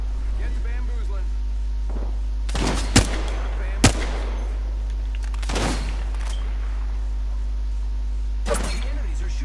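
Enemy gunfire in the Apex Legends video game comes in several short bursts with sharp single cracks, heard at moderate distance over a steady low hum.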